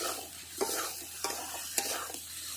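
Spices for a potato curry sizzle in hot oil while being stir-fried, a constant close hiss punctuated by regular spatula scrapes roughly every half second, with no voices.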